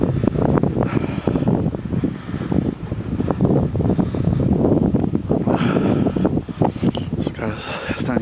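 Strong wind gusts roar steadily through a snowstorm outdoors, a loud continuous buffeting rush with bursts against the microphone, and a person talks over it.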